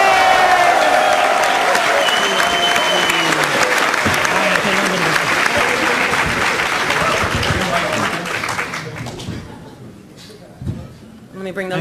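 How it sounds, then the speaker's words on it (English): An audience cheers and applauds at a Halo anniversary panel, loud sustained clapping with whoops that gradually thins out and fades, leaving a few scattered claps and voices near the end. "All right, everybody, cheer for Dennis."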